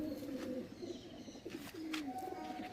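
Andhra pigeons of the Chennai line, a pencil-type breed, coo steadily in a loft, several low rolling calls overlapping close by over a constant background murmur, with no talking.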